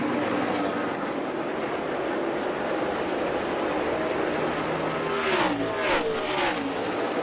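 NASCAR race cars at a championship race finish, a dense, steady roar of engines and crowd, with a couple of cars sweeping loudly past near the end.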